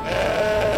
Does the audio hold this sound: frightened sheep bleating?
yes